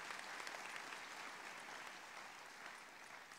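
Steady, dense applause from a graduation ceremony audience honoring Habitat for Humanity workers, a broad wash of clapping holding at an even level throughout without voices over it.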